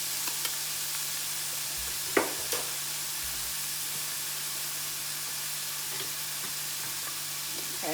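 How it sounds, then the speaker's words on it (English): Vegetables sautéing in hot oil in a skillet for homemade meatloaf, a constant loud hiss of frying with a couple of brief utensil knocks against the pan. "I'm going to stir those up a little bit. And like I said, I like to warm my veggies, saute them."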